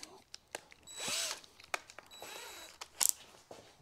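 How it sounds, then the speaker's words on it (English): Short whirring bursts of a power drill spinning up and boring holes into a plastic cap, mixed with clicks and handling knocks nearby. "we just drill some holes"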